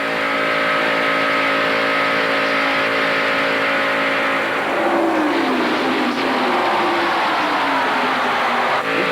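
A Citgo-sponsored Wood Brothers Ford stock car at speed in the 1992 Winston 500, heard from inside the car: a loud, steady engine drone with a shift in pitch midway, continuous throughout.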